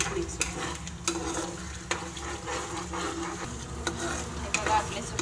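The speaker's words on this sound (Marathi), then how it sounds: "2 मिनटं चांगलं हलवत राहा, म्हणजे सुके मसाले व्यवस्थित तेलात मिक्स होतात." Dry spices stirred and fried in oil for a restaurant-style egg curry, with spoon scrapes and knocks against the pan over a continuous low sizzle, close and without talk.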